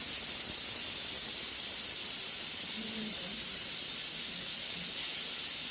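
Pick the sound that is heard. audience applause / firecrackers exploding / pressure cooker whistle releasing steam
pressure cooker whistle releasing steam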